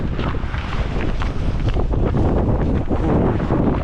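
Strong wind roars steadily across the microphone on thin ice during winter pike fishing, a dense buffeting rumble with no pauses.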